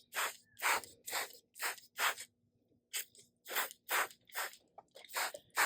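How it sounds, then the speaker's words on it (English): A hand-pumped spray bottle mists homemade organic pest repellent onto the tops of garden leaves. Eleven short, close hissing bursts come in a fairly regular rhythm with brief silences between them, and there is no talk. "I'm going to spray it on the top part of the leaves"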